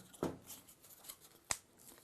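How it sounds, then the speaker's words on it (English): A cardboard frame is scored and folded over, giving two brief crisp scraping crackles, quiet and close, separated by soft rustling. "I'm now going to score those just as I did a few moments ago, and then carefully fold them over"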